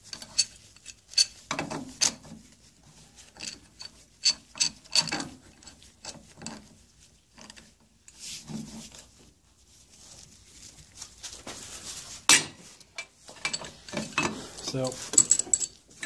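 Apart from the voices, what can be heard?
pipe wrench slipping off while loosening outboard gearcase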